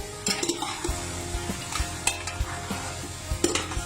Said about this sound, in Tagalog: maglalagay ako ng sibuyas para magiging, para mabango yung beef natin.